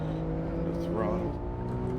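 A BMW M4 race car in Assetto Corsa at the Nurburgring revs up under throttle, its engine tone climbing in pitch midway and holding a loud, steady drone.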